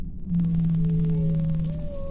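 A drawn-out tonal whale calf distress call, a low steady moan with rising higher whistles above it, sounding alone against a faint underwater hiss.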